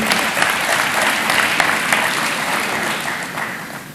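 Audience applause at a jobs summit, a loud, sustained wash of many people clapping in a large hall, steady throughout and easing slightly toward the end.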